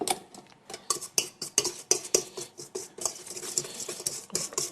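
Icing sugar, whole eggs and a yolk being whisked together in a bowl for a Christmas log, quick rhythmic clinking and tapping of whisk against bowl, close and continuous, with no talk.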